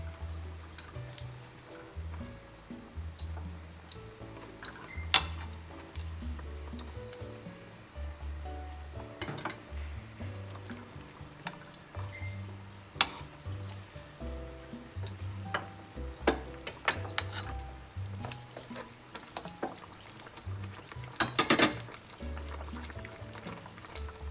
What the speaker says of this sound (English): Stir the marinade or the sauce until it thickens.